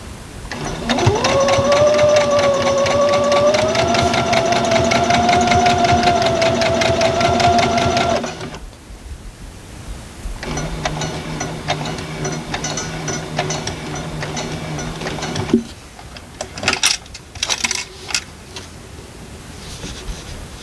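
Sewing machine stitching a quilt seam, a fast steady mechanical whir lasting several seconds, then a shorter second run after a brief pause, close and clear, with a few small handling clicks at the end.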